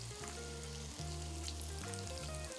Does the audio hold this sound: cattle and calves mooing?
no